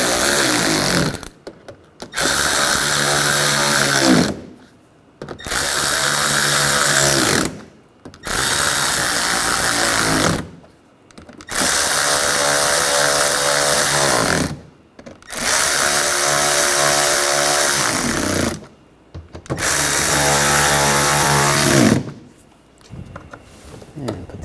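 A power tool drives and tightens screws on the washer fluid reservoir of a 2013-2019 Ford Escape, loud close bursts of whirring repeated about seven times with short pauses between.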